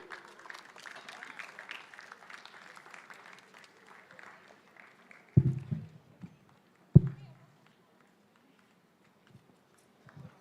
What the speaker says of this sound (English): Big clap for Adi's parents and Adi.